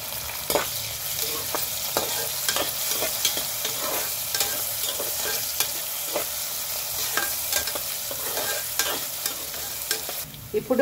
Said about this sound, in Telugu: కరివేపాకు వేసుకుందామమ్మా.